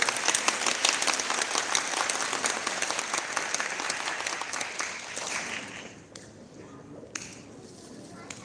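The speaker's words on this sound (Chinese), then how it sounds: "那我们再用更热烈的掌声来欢迎赞美操敬拜团" A church congregation at a Christmas worship service claps loudly and steadily, the applause fading after about six seconds into a quiet room with a few scattered claps.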